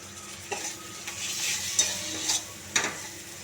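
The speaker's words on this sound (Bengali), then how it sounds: "টমেটো দিয়ে আর একটু ভালো করে কষাবো।" Spice masala with tomato being stirred and sautéed in a pan for rui fish curry, a low steady sizzle broken by a few distinct spatula scrapes and clinks at irregular intervals.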